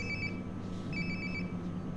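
A phone rings in Life Is Strange: Before the Storm, two short trilling electronic bursts a moment apart, muffled and somewhat distant as if in another room, over a low steady background hum.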